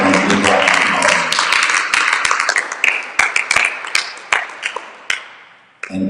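An audience at a school talk event gives a round of applause, loud and dense at first, then thinning into scattered individual claps before a brief final burst.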